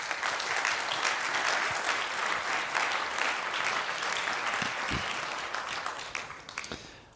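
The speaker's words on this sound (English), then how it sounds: "So please give a warm welcome applause to Aidan." A conference audience claps steadily to welcome a speaker at a hacker congress, dense sustained applause filling the hall and tapering slightly toward the end, with no voices over it.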